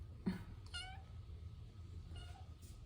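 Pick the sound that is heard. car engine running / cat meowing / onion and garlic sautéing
cat meowing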